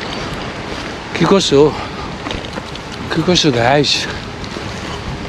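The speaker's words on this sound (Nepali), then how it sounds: "मिठ हावा चलिरहेका छन्" Outdoor breeze blowing steadily through a morning scene, a soft broadband rush under someone talking casually in two short bursts.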